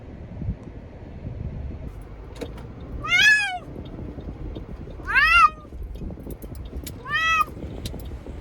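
A deaf cat gives three loud, drawn-out meows spaced a couple of seconds apart, heard close by over a low rumbling background like a moving car.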